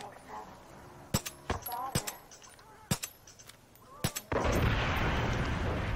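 Gunshots and an explosion in Call of Duty multiplayer: several sharp, loud cracks spaced irregularly, then a sudden sustained roaring blast, with faint background voices.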